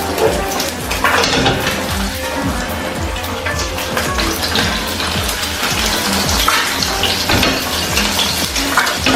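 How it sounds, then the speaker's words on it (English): Noodles stirred and tossed in a hot pan at home, a steady loud sizzle with scraping and clattering of utensil against the pan running throughout, no voices. "Then I added the noodles and mixed everything together."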